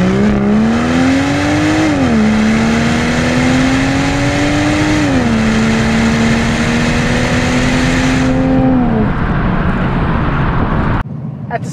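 A 2016 Volvo V60 T6 Polestar wagon with a turbocharged six-cylinder engine accelerates hard on the road, its loud steady drone climbing in pitch through several gears with short drops at each shift before easing off.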